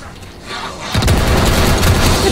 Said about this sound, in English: Oh my God, no, it's a rocket launcher.